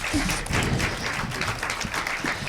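A youth summit audience applauding panelists, scattered uneven clapping with some thumps and taps, moderately close and brief.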